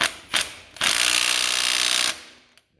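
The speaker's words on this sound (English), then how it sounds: "just take your bolt and your trusty impact, and make sure that the socket's on there, and just give it a little." An impact wrench tightens the ignition advance rotor bolt on a ZZR600/ZX6R/ZX9R-type motorcycle engine. Two short hammering bursts give way to a loud, sustained rattling run of about one and a half seconds, then stop abruptly.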